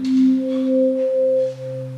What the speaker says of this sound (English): Here I've got 4 sine waves tuned differently.